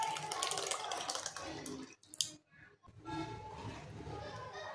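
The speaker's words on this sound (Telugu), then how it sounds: "ఈ పప్పులో నేను ఆ చింతపండు రసం కలిపానండి" Tamarind juice is poured into boiled lentils for dal, giving a wet splashing and trickling sound close by with a short pause midway, while a voice talks over it.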